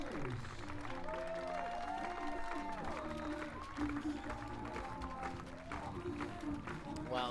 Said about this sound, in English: Let's give a big round of applause to the referees, line judges, stewards, rakers, ball critics,